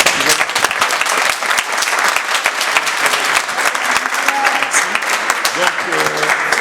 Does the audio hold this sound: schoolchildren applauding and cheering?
yes